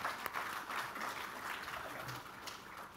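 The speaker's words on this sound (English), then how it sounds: "a big round of applause to our CTO team" An audience at a corporate event claps for a technology team, a brief, faint, steady spread of applause heard from a distance.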